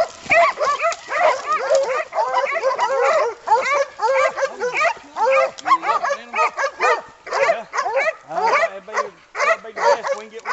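Hunting dogs on a Tennessee hog hunt bark and yip in a steady, frantic chorus close by, overlapping excited yelps with whines mixed in, while people talk underneath.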